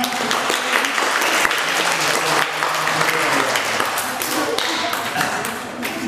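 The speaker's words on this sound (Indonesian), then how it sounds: "Tepuk tangan untuk Pak Haris." An audience at an elementary school quiz competition held at a Buddhist vihara gives loud, sustained applause, a dense wash of many hands clapping steadily throughout with a few sharper taps poking through.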